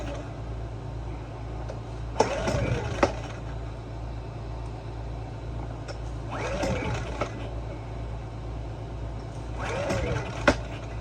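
A Generac GP2200i inverter generator that will not start without starting spray and surges when running. Three separate pull-start attempts crank briefly over a steady low hum, and the engine never catches.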